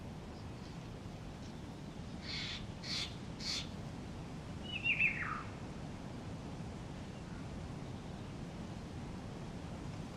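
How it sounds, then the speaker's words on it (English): Amid quiet outdoor ambience in DayZ, a bird calls a few times: short bright bursts in quick succession, then a brief falling chirp, moderately clear over a low steady background hiss. "And that's what they call it, the cheeseburger bird"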